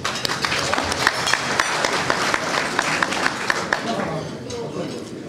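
Audience applause at a friendship dinner for a Malian election campaign team, with steady dense clapping from a crowd that holds for several seconds and then eases off, loud and close.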